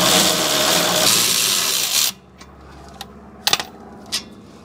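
An impact gun zips out the 17 mm caliper bracket bolts on a Toyota RAV4 during a rear brake pad and rotor job, a loud continuous whir for about two seconds, then a few short clanks and taps.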